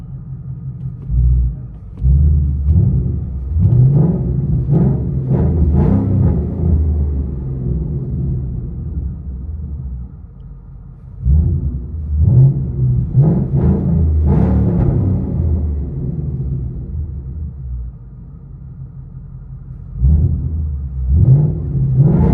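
Cabin-interior recording of a stock car's exhaust, a deep droning rumble that swells with revs in several bursts and eases back between them, loud and close, with no talking.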